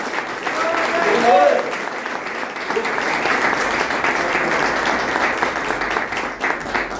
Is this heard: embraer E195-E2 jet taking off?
no